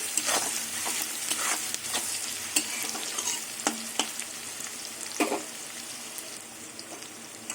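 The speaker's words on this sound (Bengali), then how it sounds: "এবার রসুন দিয়ে পেঁয়াজ দিয়ে কিছুক্ষণ ভাজবো রসুনের কাঁচা গন্ধটা চলে যাওয়া অবধি" Crushed garlic and onion fry steadily in a pan, a continuous close sizzle broken by scattered sharp clicks and scrapes of stirring, with no voices.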